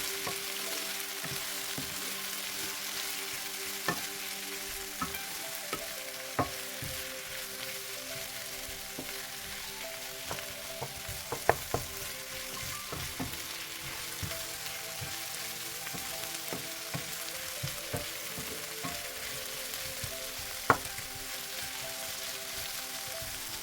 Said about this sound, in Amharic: አንድ ላይ የተፈጨ ዝንጅብልና ሽንኩርት ጨምርበታለሁ።